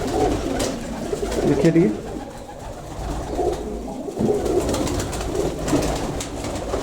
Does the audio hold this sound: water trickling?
no